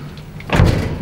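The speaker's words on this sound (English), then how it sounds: "Door closing." An elevator door slides shut with a soft rumbling thud near the end of a short, quiet interval, close by and without talk.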